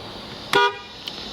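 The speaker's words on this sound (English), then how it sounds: "And they reattach the horn, so that's good." A 2010 Ford Crown Victoria P7B sounds one short, loud horn blast near the middle, followed by a faint click, with no talk.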